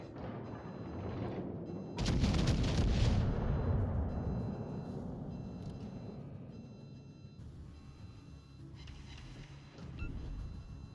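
German battleship main guns firing in World of Warships Legends, a loud booming broadside that erupts sharply and rolls away slowly, followed by a lighter report near the end.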